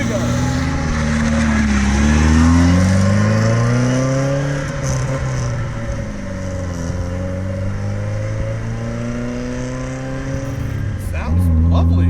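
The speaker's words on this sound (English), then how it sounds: "It's got a nice exhaust on this" A 1967 Alfa Romeo Duetto climbs a hill with two people aboard, its engine and exhaust revving up through the gears with a loud, rasping note and a brief lift between pulls, while voices talk inside the car.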